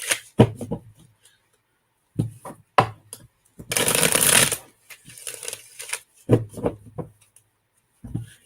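Tarot cards are shuffled by hand in several short riffling bursts with pauses between them, one longer sustained riffle in the middle, close and crisp.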